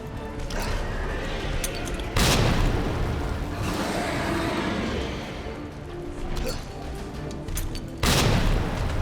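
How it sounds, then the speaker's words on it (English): Two loud, booming blasts ring out in Resident Evil 2 Remake, one near the two-second mark and another near the end, from a thrown frag grenade, with game noise rumbling steadily in between. "I'm about to throw a frag on his head."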